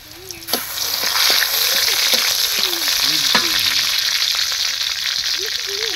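Bay leaves dropped into hot oil in a home kitchen where lentils are being cooked set off a loud, steady sizzle that holds for several seconds, with faint scraping and clinks of a utensil beneath.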